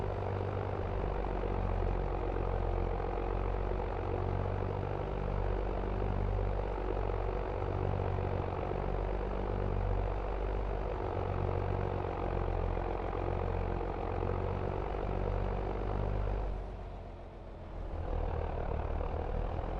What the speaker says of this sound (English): I like this kind of tractor noise.